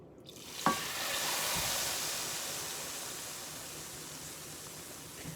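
Stirring nihari in a pot after gravy is added, a steady soft hiss and sizzle with faint scraping of the spoon, one brief clink near the start, continuous and close.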